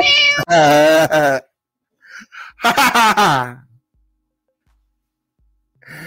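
A person's voice imitates a cat, giving a series of loud, drawn-out meows in two bursts separated by brief pauses.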